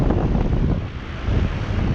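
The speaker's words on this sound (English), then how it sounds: "And then we got an Ameristar running." A 2018 Ameristar 2.5-ton heat pump with an LG scroll compressor runs in cool mode outdoors, giving a loud, steady, close-up whooshing roar of fan and airflow with no talking.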